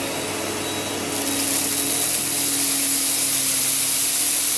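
A vibrating vacuum cleaner starts up and runs steadily on carpet while picking up scattered rice, a loud continuous whirring drone that steps up in intensity about a second in, with no talking.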